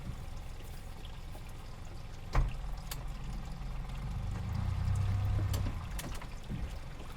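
A boat's outboard motor spits its cooling water in a steady splashing trickle over a low engine hum, with one sharp knock partway through.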